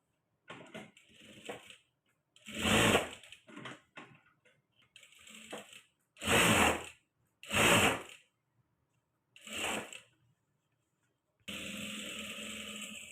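A sewing machine stitches blouse canvas in short separate bursts of whirring, several runs with quiet gaps between, close and moderately loud, the last burst steady at the end.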